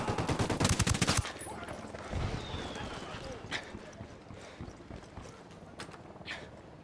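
Video game gunfire in Tom Clancy's Ghost Recon Wildlands: a rapid, loud automatic burst for about a second, then scattered single shots and thuds of varying distance, with faint voices in the background.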